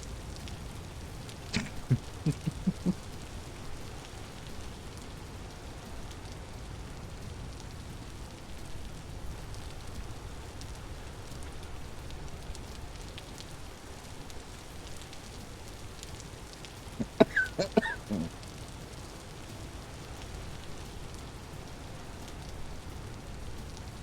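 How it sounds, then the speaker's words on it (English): Steady rain falls in the Vintage Story video game, a soft continuous patter across the whole stretch, with a few brief sharper clicks and taps near the start and again midway. "Nothing like some nice, chill, rainy vibes."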